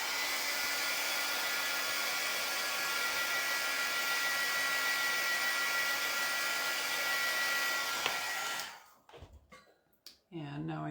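A hair dryer blows a steady, loud whooshing stream of air onto a letter for about eight seconds, then cuts off, leaving brief handling noises and quiet.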